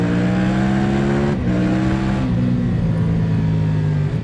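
Triumph Tiger 1200 motorcycle with a detuned Speed Triple engine of about 150 horsepower pulling hard, a loud, steady close-up engine drone whose pitch climbs through the gears with short dips at shifts.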